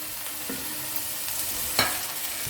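Boiled cauliflower frying in hot oil makes a soft continuous sizzle with occasional scraping stirs, one louder clatter of the spoon in the middle, and no voices.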